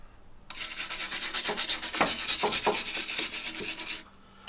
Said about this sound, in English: when we get done wire brushing this side